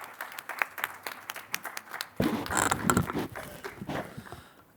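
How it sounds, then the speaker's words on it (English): An audience at a cooperative development summit in Bengaluru claps, with scattered individual claps at first, then building into fuller, denser applause from a moderately sized crowd in a hall. "Let's welcome with a huge round of applause"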